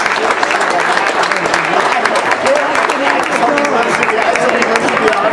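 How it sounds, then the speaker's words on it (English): A live audience applauds steadily throughout, a dense, continuous wash of many hands clapping at a fairly loud, even level with no pauses. "how about a round of applause for the MQP folks who work with St."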